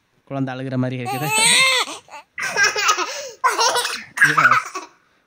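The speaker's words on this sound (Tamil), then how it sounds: "குழந்தை சிரிக்கிற மாதிரி இருக்குது." Baby laughter sound effect from a Casio CTX9000IN keyboard: several bursts of high, bubbly infant giggling and chuckling with short pauses, loud and close.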